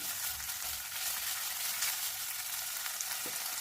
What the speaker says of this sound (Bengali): হালকা তেলেতেই পনিরগুলো খুব সুন্দর ভাজা হয়ে যায়